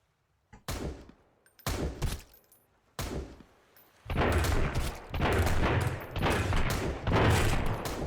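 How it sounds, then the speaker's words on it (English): Gunfire in the survival game Sunkenland during a parking lot raid: a few separate sharp shots first, then dense, loud bursts of rapid fire that keep coming in heavy waves. "I'm taking massive fire here"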